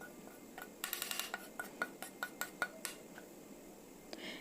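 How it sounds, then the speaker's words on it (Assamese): Roasted wheat flour is spread onto a bell-metal plate, producing faint, scattered metallic clinks and light scraping taps from a utensil, close but quiet against a soft hiss. "এতিয়া আটাখিনি মই কাঁহী এখনত মেলি দিম।"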